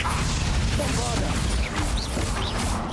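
Bombarda blasting spell cast in Hogwarts Legacy, loud crashing impacts and whooshing bursts in a dense, noisy barrage with brief pitched swishes layered on top.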